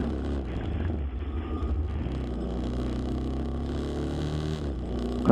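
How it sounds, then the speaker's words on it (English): A Honda RS150 motorcycle on a ride to the mall, its engine humming in a steady low drone with some wind rush, close and even throughout. "Currently, I'm using my daily commuter, my Honda RS150."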